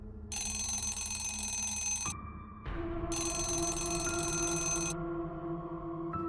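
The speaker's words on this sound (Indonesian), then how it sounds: "Terlihat telepon di atas sebuah meja berdering." An electronic telephone rings in loud bursts with short pauses between them, close by and with no voices.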